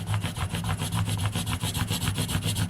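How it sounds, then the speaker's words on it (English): Steady back-and-forth abrasive rubbing of a fret eraser polishing the frets of an Ibanez Gio electric guitar, close and continuous with a rhythmic scrubbing pulse. "They're fret erasers, and what they do is they polish the frets."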